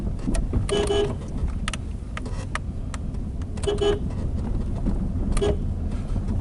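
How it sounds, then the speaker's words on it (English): Nissan Primera sounding its horn while driving down a village road, a few short honks over steady car and road noise. "We have to use the klaxon."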